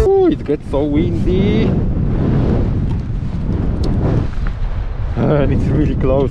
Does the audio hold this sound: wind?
yes